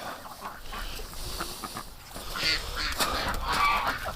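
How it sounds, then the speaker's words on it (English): Ducks and geese honk and quack at a moderate distance beside a flooded area in front of a barn on a rainy winter day, their calls rising over a steady wet background. "the ducks are playing in it like crazy"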